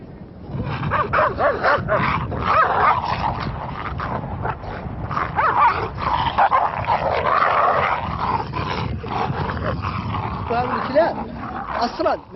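Mauritanian herders' tall, muscular guard dogs barking and yelping in repeated bursts at close range, mixed with growls and the voices of people talking over them throughout.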